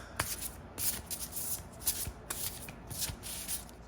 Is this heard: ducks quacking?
no